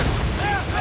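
Deep, rumbling booms of ship cannons firing in the naval game Assassin's Creed Rogue, a short heavy blast that fills the moment, with a faint whistling tone over it.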